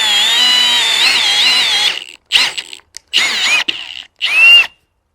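Drill bit being sharpened: a steady high grinding whine for about two seconds, then several short separate bursts of grinding contact with silent gaps between them, close and loud.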